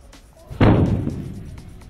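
A balloon bursts partway through with a single sharp, loud bang that fades into a short rumbling tail, following quiet near-silence.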